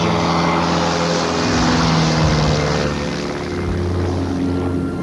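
A light aircraft's propeller engine drones steadily and loudly near Mont Blanc as it takes off close to the rock face, the tone swelling slightly mid-way with no one talking.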